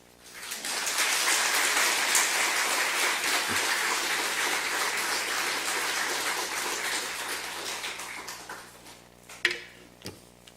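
A church congregation at a tenth-anniversary service claps in welcome of a pastor, a full crowd of hands swelling quickly and holding steady, then thinning out with a few last claps and knocks near the end.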